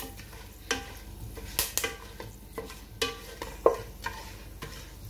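Whole garam masala spices, cardamom pods and peppercorns, frying in hot oil in a pan, a soft steady sizzle broken by a few sharp stirring clinks and scrapes of a spoon against the pan.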